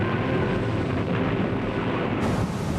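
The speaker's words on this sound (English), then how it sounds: "A second X-1 explodes in the Roma's magazine" An X-1 guided bomb blows up the magazine of the battleship Roma, heard as a sustained, heavy, rumbling roar of explosion that fills the whole stretch without pause.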